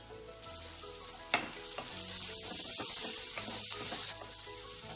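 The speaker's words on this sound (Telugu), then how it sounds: "ఉల్లిపాయలను 2 నిమిషాలు ఫ్రై చేసుకోవాలి." Onions sizzle steadily in a pan for a Telangana-style bankoti leafy curry, a continuous close frying hiss broken by a few stirring scrapes and clinks, with no talking.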